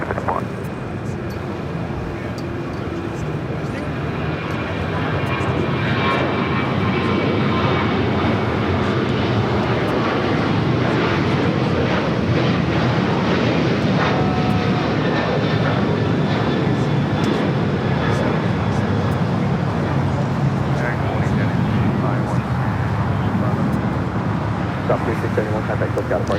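Southwest Airlines Boeing 737-800 jet engines roaring through a takeoff roll at LAX, a broad steady rumble that swells after a few seconds and holds loud for the rest, heard from a distance outdoors.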